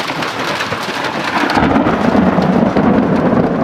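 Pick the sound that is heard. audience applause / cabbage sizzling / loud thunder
loud thunder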